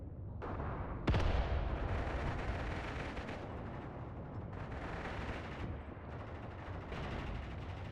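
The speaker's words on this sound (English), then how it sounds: "What the hell was that tracer fire coming across the screen like that?" Sustained gunfire and artillery rumble roll through a battle in the World War II game Mius Front, with a sharp crack near the start over a dense, continuous wash of distant shooting.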